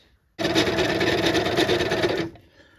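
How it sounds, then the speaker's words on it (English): A sewing machine stitches a shirred waist skirt in one close, even run of rapid mechanical chatter lasting about two seconds, starting and stopping sharply against a quiet room. "I'm just sewing the width of the presser foot from the edge to where the needle is running"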